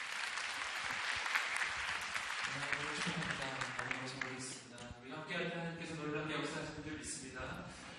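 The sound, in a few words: audience applause welcoming the pastor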